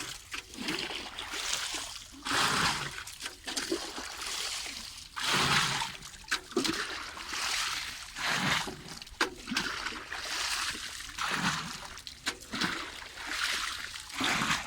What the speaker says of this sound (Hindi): ये पानी डाल रहे हैं